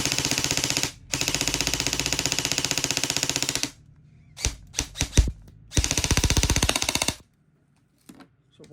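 A G&G Raider airsoft gun test-fires on full auto in long rapid bursts. Loud, close mechanical rattling is broken by short pauses and a few quick single shots.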